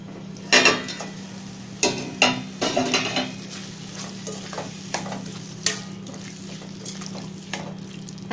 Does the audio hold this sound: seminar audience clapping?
no